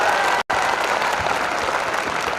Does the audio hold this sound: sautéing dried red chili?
no